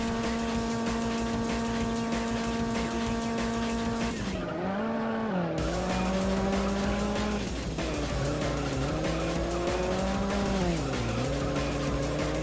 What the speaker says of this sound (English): I was doing some drifting.